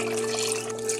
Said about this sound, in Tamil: இப்போ இதில் வந்து நான் 6 கப்பு தண்ணி ஊற்றுறேன்